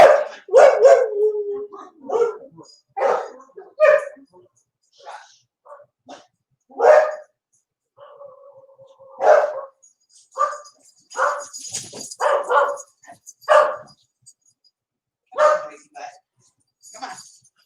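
Pet dogs barking, yipping and howling indoors as they are about to be let outside, with bursts of excited barks and drawn-out howls, some overlapping, close and loud, with a person briefly talking.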